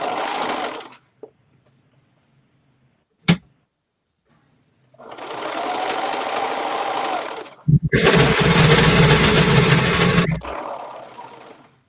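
A sewing machine stitches hoodie fabric in several loud, motor-driven bursts, the first brief, then two sustained runs of a few seconds each, separated by quiet pauses and a sharp click.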